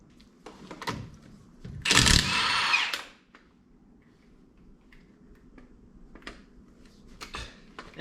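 An impact wrench on a 1972 GTO 455HO gives one loud, close burst of about a second, surrounded by light clinks and handling noises in a quiet workshop.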